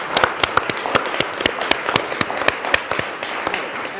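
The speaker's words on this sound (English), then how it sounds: "Big round of applause for Trewin." An audience at a business forum applauds a speaker, the clapping thin and uneven with distinct individual claps and a few sharp close hands over a softer spread of applause.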